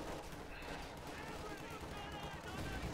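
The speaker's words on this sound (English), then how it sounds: "Oh, big rifle grenade." Rifle grenade blast in the Company of Heroes 2 strategy game, heard within a dense, steady wash of battlefield gunfire and explosions, with a voice talking over it.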